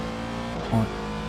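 An iRacing race car engine holds full throttle in a reduced-power fuel-saving mode, a steady harmonic drone with a brief tonal shift partway through, alone and close.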